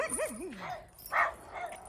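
Dogs near a rural lane where a goat is being led home, giving yips and whimpering, wavering barks close by, mixed with a person's voice.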